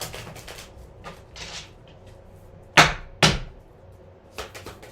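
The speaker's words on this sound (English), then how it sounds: "Let's do one more shuffle." Tarot cards are shuffled in two sharp, brief bursts close to the microphone, set against quiet room tone with faint rustling before and after.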